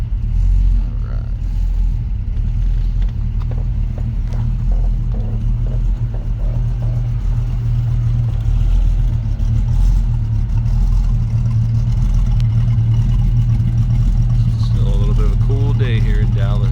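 Engine of a 1964.5 Ford Mustang convertible idling slightly low after a cold start, a loud steady low rumble running throughout with someone talking over it.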